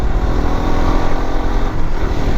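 A motorcycle fitted with a quick throttle revs loudly and close, a rough continuous engine roar with slight fluctuations in pitch.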